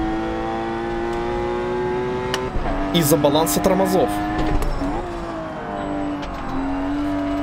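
A race car engine in Forza Motorsport 7 holds a steady droning pitch that rises and shifts through a brief burst of revving and tire noise, while someone talks over it throughout.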